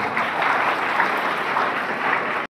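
Students at a school Model United Nations program clap for themselves in a steady, close, even wash of applause that cuts off abruptly.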